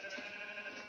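Sheep in Minecraft bleating: a short, faint, high-pitched bleat lasting about a second, heard alone without talk.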